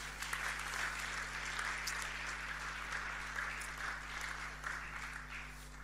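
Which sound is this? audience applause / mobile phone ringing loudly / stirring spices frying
audience applause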